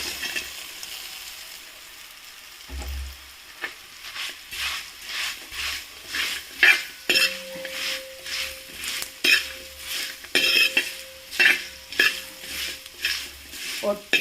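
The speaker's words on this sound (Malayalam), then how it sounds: "ഇനി ഇതിലേക്ക് നമ്മളെ പൊരിച്ചു വെച്ച ബീഫ് ഇട്ടു" Fried beef stirred into a hot pan for beef chilli, a run of rhythmic spoon scrapes and clanks against the pan over a steady sizzle, close and fairly loud, with no voices.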